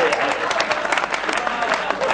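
Hindi poetry recital audience breaks into dense, continuous clapping, fairly loud, with a voice faintly audible over the applause.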